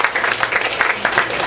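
A crowd applauds in a dense, steady patter of clapping throughout the short stretch.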